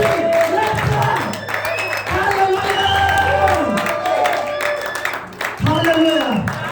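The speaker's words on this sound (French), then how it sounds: "Lève-toi, acclame, fais le bruit" A church congregation at a thanksgiving service cheering, shouting and clapping loudly, a sustained roar of voices with rising and falling shouts close by.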